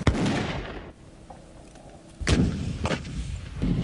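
A Dragon guided anti-tank missile launch by U.S. Marines booms with a heavy blast that fades into rumble. Further sharp reports follow a couple of seconds later, all fairly distant and unaccompanied by speech.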